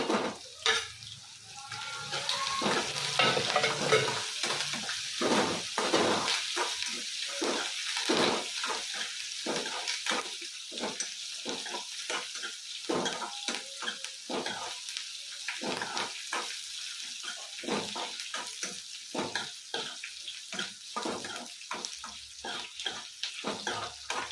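Dry red chillies and green chillies fry in hot oil, a continuous crackling sizzle that spits and pops in bursts, close and fairly loud throughout with no voices.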